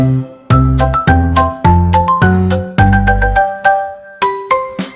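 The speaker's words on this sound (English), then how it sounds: "The bell chimed too" A cartoon clock tower bell chimes a bright melodic sequence of ringing strikes, each tone decaying before the next, loud and up front with no voices.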